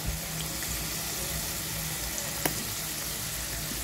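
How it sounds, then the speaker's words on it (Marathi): Potato frankie stuffing, seasoned with coriander-cumin powder, garam masala and tomato ketchup, sizzles in a pan as it is stirred, giving a continuous loud hiss with a single sharp scrape midway. "आणि ही स्टफिंग फिरवून घ्या."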